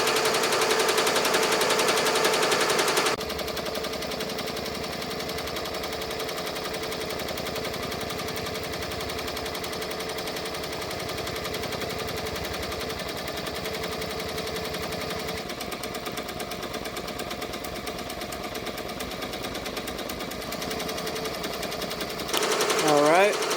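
A sewing machine stitches a Coach toiletry bag in a steady, continuous mechanical whir that runs for most of the stretch, with louder handling noise briefly at the start and end.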